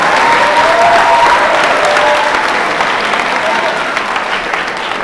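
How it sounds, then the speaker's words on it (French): An audience at a church gathering in Toulon claps loudly and steadily, with a few voices calling out near the start. The applause fades slightly toward the end. "On peut applaudir Manon."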